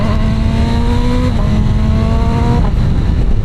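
A 2026 BMW S1000RR superbike engine runs steadily with a loud, sustained idle and a couple of slight pitch shifts, close by, with no talking.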